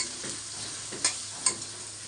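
Oil heats in a pan with a steady, close hiss and a couple of sharp little pops and spatters, and no voices are heard.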